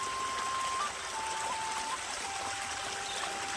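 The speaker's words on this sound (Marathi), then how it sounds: "बघ कसं आता बरोबर पाणी जातं" Water runs steadily along a field channel with a constant soft rushing trickle, close by, with faint thin tones drifting above it.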